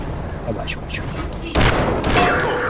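A tank cannon fires in World of Tanks, a heavy blast at about 1.5 seconds and a second at about 2.1 seconds, loud and close, each followed by a rumbling tail over steady engine noise.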